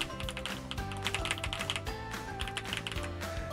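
Rapid typing on a mechanical keyboard fitted with Frankenswitch linear switches built from Splash Brother and Ajazz Banana parts, a close, dense run of crisp keystroke clacks with no talking.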